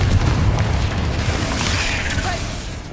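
A Confringo blast spell explodes in Hogwarts Legacy inside a mine, a loud low boom that decays into a rumbling tail over about three seconds.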